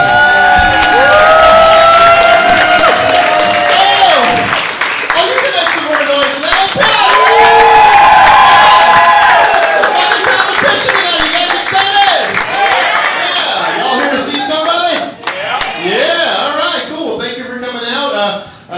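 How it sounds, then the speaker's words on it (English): An audience at an open mic comedy show applauding and cheering loudly, with sustained dense clapping, whoops and shouts that go on for many seconds before thinning out near the end, and voices mixed into the crowd noise. "Ladies and gentlemen, let's hear it for Mr. Johnny Hogg."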